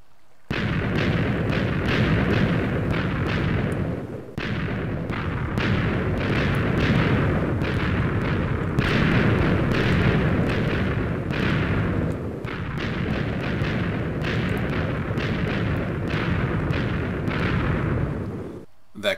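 TNT blasts going off in a Minecraft world, a long, loud chain of booming explosions rolling over each other almost continuously with only brief dips.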